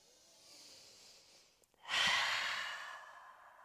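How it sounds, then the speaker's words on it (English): During a new moon yoga practice, a slow, deep breath is drawn in softly and then released as a louder, long breathy exhale up close, with no talk. "close your eyes, take a deep, long, yummy breath."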